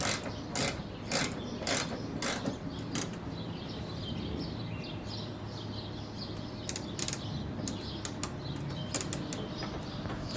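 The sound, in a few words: ratchet screwing in side screws on Honda Civic condenser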